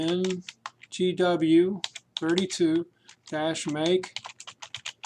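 Computer keyboard keys tapped in quick irregular bursts while a command is entered at a command prompt, clicks clearly audible between and under a man's speech.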